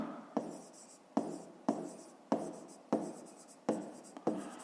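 Pen strokes scratch across notebook paper in a school maths exercise, seven distinct writing bursts each starting with a sharp tap then trailing off, close and clear with no talking.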